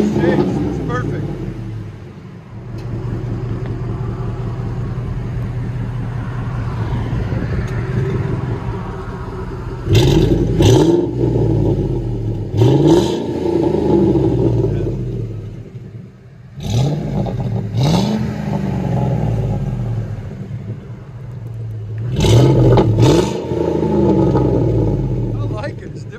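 A 2006 Ford F-150 with a 5.4L V8 and Carven TR-Series exhaust idles with a deep rumble, then revs in several sharp bursts that rise and fall, loud and close, with people talking between revs.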